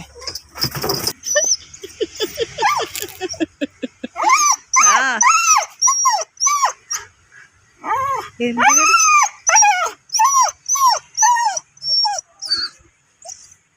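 A puppy whimpers and yips repeatedly in high, wavering cries, close by, with a person talking briefly near the start.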